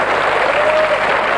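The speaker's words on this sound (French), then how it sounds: "on pourrait lui faire quelques applaudissements" A studio audience on a 1990s French game show applauds a winner, with a short burst of steady, even clapping filling the room.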